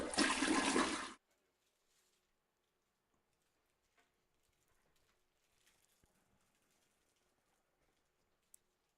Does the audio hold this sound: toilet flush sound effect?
yes